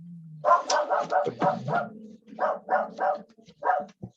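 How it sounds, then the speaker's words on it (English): Several dogs bark in quick, rhythmic volleys close by, sharp yips and woofs coming in two clusters with a brief gap between them. "And there comes the dogs."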